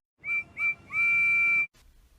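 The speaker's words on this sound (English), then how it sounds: "And with that, Percy whistled," A steam locomotive whistle sounds three times, two short toots and then a longer sustained blast, clear and fairly close.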